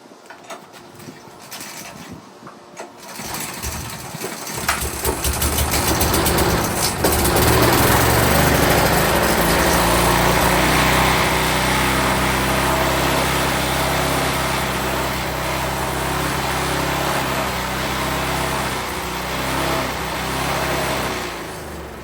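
An old, long-abandoned lawn mower engine with no throttle cable coughs into life after a few seconds, then runs loud and steady with a rough, droning roar that holds to the end.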